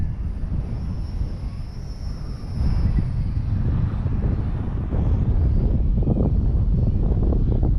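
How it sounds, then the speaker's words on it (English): Strong outdoor wind buffets the microphone in low rumbling gusts while a small WLToys XK A220 P40D Warhawk remote-control plane flies, with a faint high motor whine above. "the wind is actually worse today"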